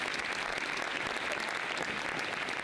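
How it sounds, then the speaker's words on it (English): Steady applause from an audience, dense clapping at an even level for a few seconds. "Please give a round of applause."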